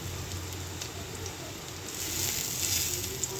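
Noodles frying with spices in a wok, a continuous close hissing sizzle that grows slightly louder toward the end, with faint stirring and no voices.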